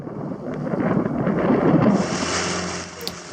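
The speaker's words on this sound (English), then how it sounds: "The trip to Moorea turns out gusty and really wet." Gusty wind roars and buffets the microphone at sea during a wet sailing passage to Moorea in the Society Islands, a steady loud rumble with rough surging peaks and no voices.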